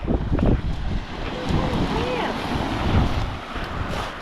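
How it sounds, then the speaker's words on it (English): Ocean swell rolling onto a beach on a Bonavista shoreline, a broad steady wash of surf under gusty wind noise buffeting the microphone, with swells rising and falling across the clip. "The way the waves are coming in, this is from the swell."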